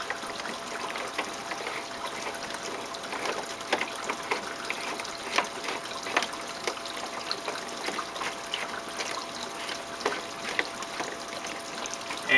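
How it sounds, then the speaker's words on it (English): Water from a connected garden hose runs steadily into a Santa Monica 100 unit during routine weekly cleaning, a continuous trickling, splashing flow with small irregular bursts and no talk. "Connect up the water hose."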